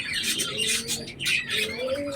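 Pigeons kept as a pair coo continuously at close range, low murmuring calls with faint chirps and a brief flutter of wings, no talking.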